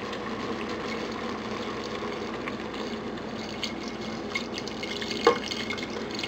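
Fresh milk is poured into a pot of beef curry, a soft continuous liquid trickle with light dripping and one brief sharper splash near the end, fairly quiet and without voices.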